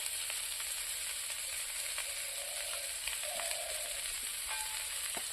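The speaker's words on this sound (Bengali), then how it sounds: "এখন কিছু সময় ভেজে নেব।" Steady, soft sizzle of food frying in a pan with turmeric and salt, a continuous crackling hiss with occasional small pops and no voices.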